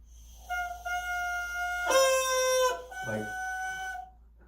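A bassoon reed sounds a thin, squeaky high crow held for a few seconds, with a brief wavering break partway through.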